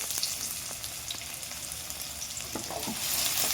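Chopped onions fry in hot oil in a wok with a moderate, steady hiss, a few faint scrapes and clicks, and the sizzle swelling slightly toward the end.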